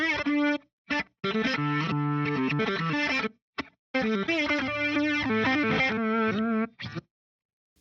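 Reversed electric guitar phrases played backwards, swelling notes with distorted, effected tone arriving in short bursts separated by brief gaps of silence.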